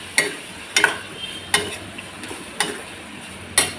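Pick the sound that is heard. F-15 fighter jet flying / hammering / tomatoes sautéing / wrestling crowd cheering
tomatoes sautéing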